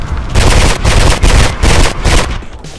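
A gun picked up in Mirror's Edge fires in several loud, close bursts of rapid shots, about four distinct volleys separated by brief gaps, ending with a tapering tail.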